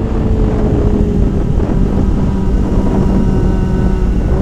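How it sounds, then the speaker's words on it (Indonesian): A loud, steady Kawasaki ZX25R motorcycle engine drone fills the whole clip, a continuous rumbling motor hum close by with no breaks. "suara motor."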